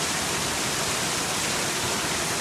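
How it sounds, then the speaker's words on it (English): Heavy rain with high winds during a storm in Fort Worth, Texas, a dense, steady roar of downpour filling the whole clip, loud and unbroken with no voices. "this is some heavy rain"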